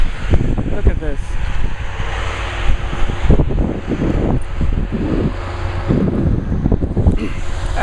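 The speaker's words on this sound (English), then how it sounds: "And it's really windy." Strong wind in a snowstorm with about seven inches of snow on the ground roars steadily and gusts against the microphone, while a person speaks in short bursts over it.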